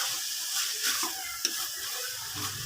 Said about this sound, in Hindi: अब हम इन मसालों की अच्छी तरीके से भुनाई करेंगे।